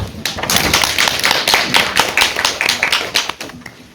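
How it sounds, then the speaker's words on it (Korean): An audience at a rural care services briefing session in Gumi claps together, a dense close burst of applause that holds steady, then thins into scattered claps as it fades. "큰 박수 부탁드립니다."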